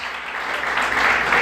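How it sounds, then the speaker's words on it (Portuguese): A church congregation applauding, steady dense clapping from many hands that stays loud throughout and swells slightly toward the end. "Aplauda o Senhor mais forte."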